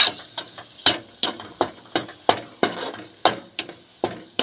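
Chutney is stirred in a pan, with a regular series of sharp spoon scrapes and taps against the metal, about two per second, over a faint sizzle.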